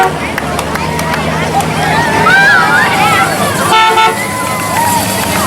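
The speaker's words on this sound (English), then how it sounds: "The horns are a little better than the horns that we have on our new cars, aren't they? You can hear them down the street." An old Chevy car horn honks at a bridge opening parade in Morrisonville, sounding loud and close over a busy crowd of talking spectators.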